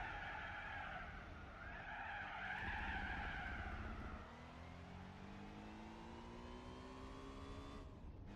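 A Lancia Stratos in Gran Turismo 4 slides with a loud sustained tyre squeal over its engine, then the engine note rises steadily as it accelerates out of the slide.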